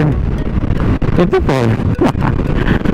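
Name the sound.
strong wind blowing on a boat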